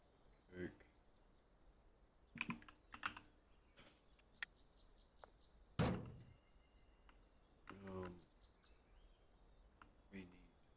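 Keyboard typing from a player of the game Schedule 1 comes in scattered bursts of clicks, with a louder thud near the middle and talking between the bursts.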